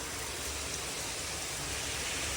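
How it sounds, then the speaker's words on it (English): Heavy rain pours down in a steady, dense roar that fills the whole moment, loud and unbroken with no gaps. "this is, like, definitely second place for the most amount of rain I've ever experienced"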